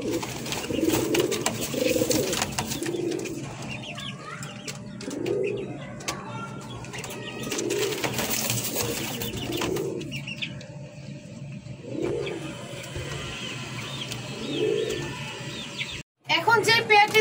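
A red Sirazi running pair of pigeons coos in repeated soft, throaty rolls, about a dozen low bursts at a steady rhythm, close and clear, with faint chirps and fluttering in the background.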